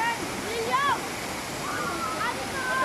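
A waterfall on the flooded Bulatukan river gives a steady, loud, broadband rush of falling water, with a person talking over it throughout.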